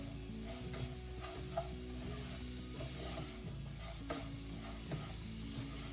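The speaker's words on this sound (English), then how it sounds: "stirring that around. Infuse the flavor of the onion with the rice." Rice and chopped onion stirred in a frying pan over medium-low heat, a steady soft sizzle with scraping spoon strokes throughout, close and continuous with no talking.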